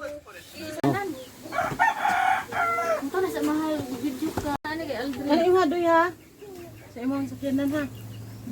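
Chickens crow and cluck close by while people talk loudly over them.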